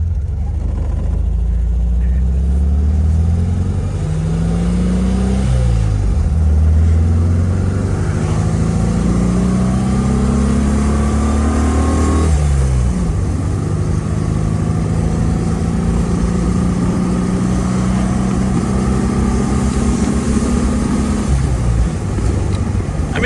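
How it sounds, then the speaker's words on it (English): A Porsche Speedster replica engine revs up and drops repeatedly as it shifts through gears, loud and close, with a steady rumble throughout. "Let's see if I can run it through the gears here for you"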